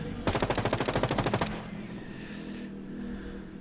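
Echelon SMG firing full auto in Ghost Recon Breakpoint, unsuppressed: a loud rapid burst of about fifteen shots lasting just over a second, then a fading echo and low ambience.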